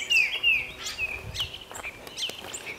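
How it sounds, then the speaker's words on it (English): Several birds chirp and sing in a residential back yard near a deck and shed, bright repeated calls and trills scattered across the moment with faint rustling and soft steps underneath, no talking. "Listening to the birds sing."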